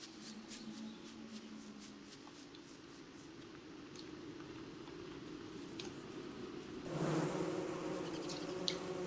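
Wasps buzzing in the game Don't Starve, a faint steady insect drone with a low hum, growing louder and fuller toward the end.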